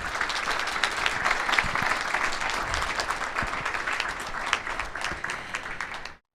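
Audience applause at the 2023 Malt Cup awards ceremony, a dense, steady wash of many hands clapping that holds evenly for about six seconds before cutting off abruptly.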